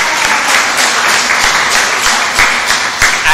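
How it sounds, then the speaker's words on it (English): A congregation at a Sunday parade service in a church gives a lively round of applause. The claps are dense and continuous, with a few sharper, nearby claps standing out over the crowd. "I think we should give them a round of applause."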